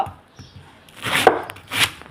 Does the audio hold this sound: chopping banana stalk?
yes